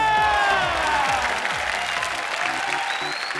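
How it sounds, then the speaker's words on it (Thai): A studio audience at a children's TV talent audition show claps briskly over bright background music, a short, full burst of applause with a hint of cheering. "ขอเสียงปรบมือ"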